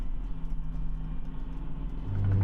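A bus in a video game drives with a steady low engine rumble, quiet and continuous, swelling slightly louder near the end.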